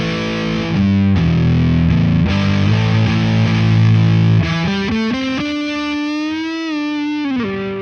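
An electric guitar through a BOSS MS-3 distortion setting resembling a DS-1 plays thick sustained chords, then a bending, singing lead note, loud and alone.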